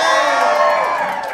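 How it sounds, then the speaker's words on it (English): Greek audience members at a live comedy show cheer and whoop together, a dense, loud burst of crowd shouting that fills the whole moment and slowly eases. "give us a cheer, the Greek people"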